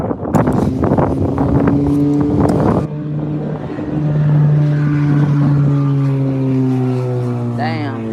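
A loud car passes on a city street in Memphis, its engine drone rising and then sliding lower as it goes by, with muffled voices and street noise beneath it.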